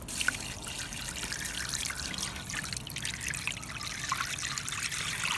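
Salt and pink curing salt water brine for homemade pastrami is poured, giving a continuous close trickle and splashing stream of liquid, alone with no talking.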